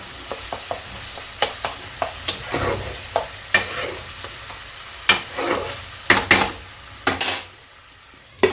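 Fish curry with spices and yogurt is stirred in a pot on a low flame: a soft sizzle under repeated close clinks and scrapes of a spoon against the pan, a few louder knocks near the end, no talking.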